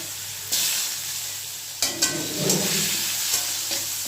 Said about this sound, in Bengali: ব্রাউন কালার অবধি আমি আলুটাকে ভেজে নেব